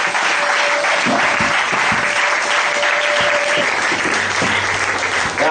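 Church congregation applauding the Lord with loud, sustained clapping throughout a praise gathering, voices singing and calling out under the applause.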